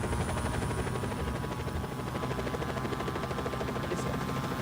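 A steady whirring helicopter drone with rapid rotor chop in the video game Just Cause 4 on Xbox One fills the whole stretch, constant and fairly loud with no pauses.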